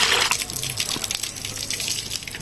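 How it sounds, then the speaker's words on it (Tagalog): Water pours and gushes steadily, loud and close, like a stream running from a tap into a basin. "Ang gipulihag tubig."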